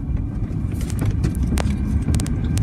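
A car drives through a residential neighborhood, its low road rumble and engine noise holding steady and close throughout, with faint scattered clicks above it.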